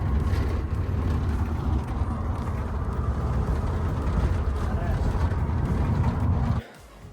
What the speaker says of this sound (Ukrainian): я вже в бусі, їду додому